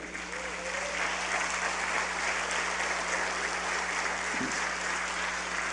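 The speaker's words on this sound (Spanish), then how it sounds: "Dale un aplauso al Señor" A congregation in church applauds the Lord with sustained, even clapping, a dense crowd sound holding steady throughout with a faint voice rising briefly over it.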